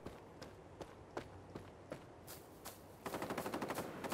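Gunshots in the battle royale game Islands of Nyne, spaced single cracks at first, then a rapid, louder string of automatic fire near the end, with faint movement sounds underneath.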